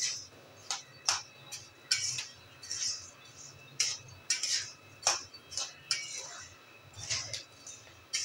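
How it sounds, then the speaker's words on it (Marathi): Sorghum grains pop and tick sharply while dry-roasting in a hot pan, a scattered string of quick, crisp cracks at irregular intervals, with a quiet voice talking now and then. "ज्वारीला पण आता लाह्या फुटायला लागल्या आहेत"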